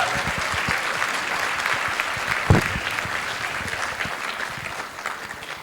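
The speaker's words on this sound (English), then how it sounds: "Give all them a great big round of applause." Sustained audience applause at a river-restoration fundraising event, a dense, steady wash of clapping hands lasting several seconds with one sharper clap standing out midway, tapering slightly toward the end.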